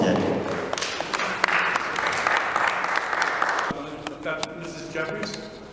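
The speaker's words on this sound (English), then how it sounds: "Please give them a round of applause once again." An audience in a city council chamber applauds the panelists of a public forum, a broad roar of clapping that ends abruptly partway through, after which a person starts talking.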